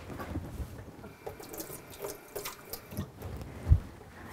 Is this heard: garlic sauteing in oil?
no